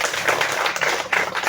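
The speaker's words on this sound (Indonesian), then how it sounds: "Tepuk tangan dulu teman-teman sekalian." Students at a youth Red Cross orientation closing ceremony clap together in a brief burst of applause, dense, fairly loud, with no talk heard over it.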